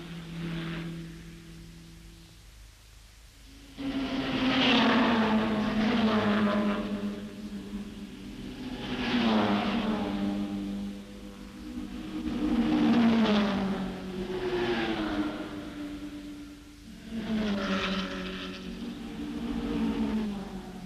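Triumph Spitfire and other race cars at the 1964 Tour Auto in France, engines roaring loudly as they rev up and fall back in repeated surges, with gear changes and a strong droning tone throughout.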